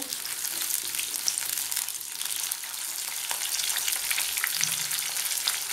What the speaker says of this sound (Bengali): পেঁয়াজটা দিচ্ছি। পেঁয়াজটা একটু নরম করে নেব ভেজে।